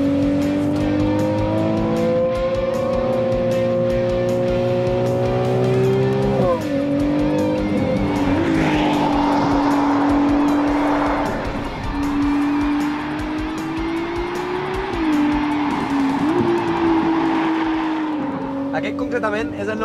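A Ferrari 296 GTB sports car drives with a strong engine note that climbs and drops through gear changes, revving hard at times with some tire noise, loud and close throughout.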